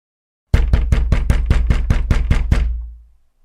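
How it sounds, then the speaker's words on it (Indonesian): Sound-effect knocking on a wooden door: a steady run of about ten loud, sharp knocks at an even rhythm, close and clear with no voices, the last knock ringing out briefly before silence. "Di situ tiba-tiba Sri dikejutkan dengan suara ketukan pintu."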